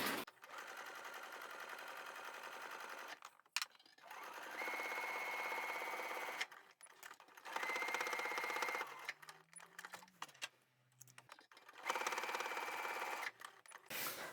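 A sewing machine stitches the long edge and tab edges of a fabric tissue holder in three steady runs of rapid mechanical whirring, each broken by short pauses, with faint handling sounds in between.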